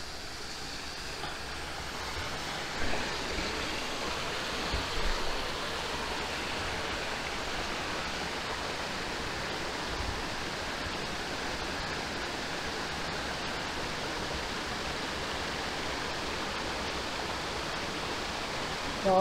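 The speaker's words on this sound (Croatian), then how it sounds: "Evo nas kod najvećeg slapa." Steady roar of the largest waterfall on Pliješ in the Žumberak mountains, a dense continuous rush of falling water heard up close, unbroken throughout with a few faint knocks.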